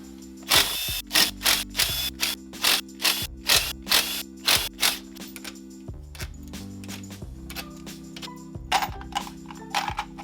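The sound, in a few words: removing engine case bolts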